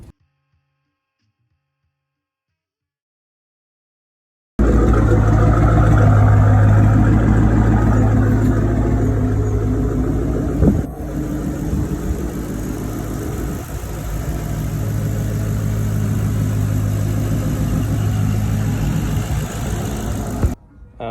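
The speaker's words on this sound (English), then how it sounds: "I can actually start the car and let this cycle through" A Ford Mustang GT V8 being rebuilt after a wreck, silent at first, then starting and holding a loud, steady rumbling idle with slight swells for about sixteen seconds. There is a brief thump midway, and no one speaks.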